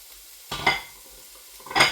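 Onions caramelising to a dark brown in a pan as the base for a chicken and mushroom curry, heard as two brief, close bursts of stirring and sizzle separated by a quiet pause.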